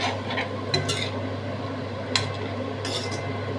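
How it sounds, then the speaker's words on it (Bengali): A utensil scrapes and clinks against a pan while dry spices fry in oil for a cauliflower and fenugreek greens dish, soft stirring strokes over a low steady kitchen hum. "কষিয়ে দিচ্ছি।"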